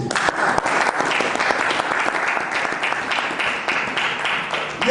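A church congregation applauds loudly and continuously, with dense, even clapping throughout.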